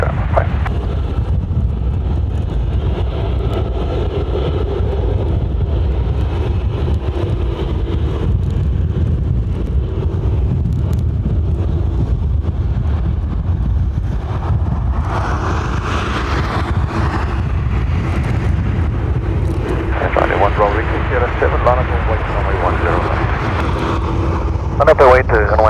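An aircraft departs runway 10 right at Dublin Airport, a broad steady roar building under gusty wind noise, with air traffic radio voices heard over it.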